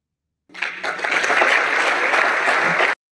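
A crowd bursts into applause at a political event in Cuba, a sudden burst of steady, dense clapping lasting a few seconds before cutting off abruptly.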